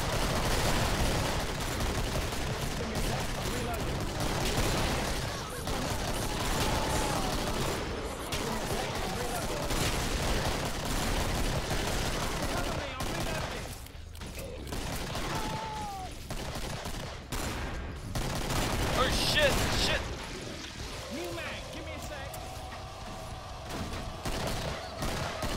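Continuous in-game gunfire from players shooting zombies in Killing Floor, dense overlapping shots through most of the stretch, with a quieter lull near the middle and end, plus some chatter mixed in.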